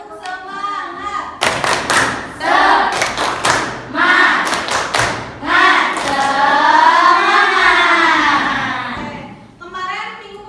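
A school class performing a rhythmic group clapping chant, bursts of many hands clapping in quick patterns mixed with children's voices chanting along, loud and close in a classroom.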